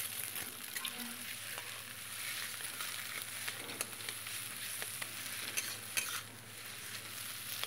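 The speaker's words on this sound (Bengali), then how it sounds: "এবার ডিমটা প্রথমে আমি একটু ঝুরি বানাবো।" Beaten eggs fry in hot oil in a wok and are stirred into a crumbly scramble, a steady close sizzle with scraping stirs and light ticks of the spatula, and no talk.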